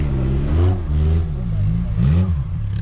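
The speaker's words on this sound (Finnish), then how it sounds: "Jaahas, sieltä kuuluukin pörinää pusikon takaa." A Suzuki SJ410 off-road vehicle's engine revs unseen behind bushes, rising and falling in several surges over a steady mid-pitched drone, fairly close and loud.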